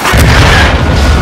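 A loud, close RPG explosion in the video game Call of Duty: Modern Warfare II, one heavy booming blast with a deep rumbling low end that fills the short moment.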